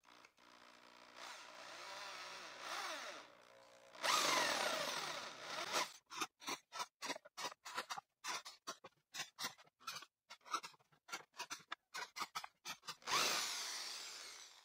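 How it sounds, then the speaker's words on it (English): A hand drill fitted with a 3 mm bit bores holes in wood, giving a series of short, quiet, rhythmic grinding bursts after a brief louder whir, close and alone with no talk. "At all these points, I'll drill using the hand drill and this 3 millimeter drill bit."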